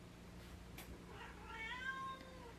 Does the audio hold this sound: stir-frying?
no